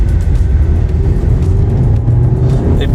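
A 2021 Skoda Octavia engine revving hard under full acceleration in S mode, a loud, continuous rising drone heard from inside the car with no talking.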